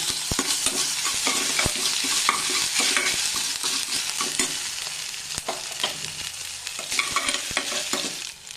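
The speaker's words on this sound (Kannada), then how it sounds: "ಅರ್ಧ ಸ್ಪೂನು ಸಾಸಿವೆ ಕಾಳು ಹಾಕ್ತೀನಿ. ಸ್ವಲ್ಪ ಫ್ರೈ ಮಾಡೋಣ." Mustard seeds crackling and sizzling in hot oil right after cumin goes in the pan, with steady frying hiss and scattered sharp pops and clicks throughout, close and fairly loud.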